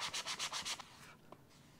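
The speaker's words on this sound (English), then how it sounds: "And so if I were to take an edge like this and grab my sanding pad" A sanding pad rubbed over gap filler on an EVA foam edge: six quick, even back-and-forth strokes, close and soft, then stopping with a faint scrape.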